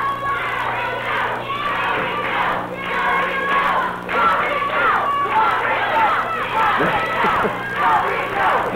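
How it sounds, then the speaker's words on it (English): Wrestling crowd at a 1979 Memphis match chanting and yelling in support of a wrestler, a dense, loud, continuous wall of voices and rhythmic shouts throughout. "Lawler's upset with the crowd because they're yelling, go, Rick, go."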